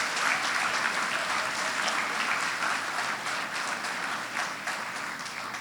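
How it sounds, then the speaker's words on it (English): Students and parents applaud the staff of Couva East Secondary at a school graduation ceremony, a steady, dense round of clapping from a large crowd that continues throughout at an even level. "give a round of applause for all the staff of Couva East Secondary"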